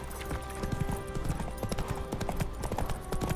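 Roach, the horse in The Witcher 3, gallops with quick, evenly spaced hoofbeats thudding close and clear over a soft tonal game backdrop, no talk.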